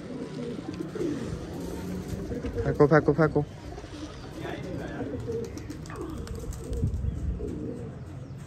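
A pigeon gives a brief burst of cooing as it lands on a rooftop, under nearby voices calling out amid outdoor background noise.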